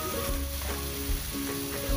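Chicken and its marinade sauce sizzle loudly in a hot pan, a steady close frying hiss with brief stirring scrapes.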